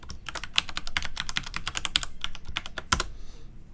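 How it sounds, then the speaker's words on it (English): Fingers tap out a password on a computer keyboard, a quick, irregular run of crisp clicks with brief pauses and one louder keystroke near the end, close and fairly quiet. "I'll just enter my password here"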